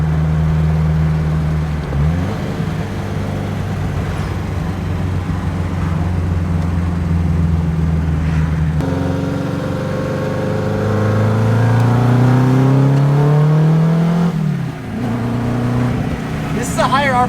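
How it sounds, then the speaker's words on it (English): Sports car engine revving high while driving, with a higher-RPM power band and a turbo, giving a steady loud drone and then rising pitch sweeps as it accelerates. Someone talks over the engine noise. "This is a higher RPM car"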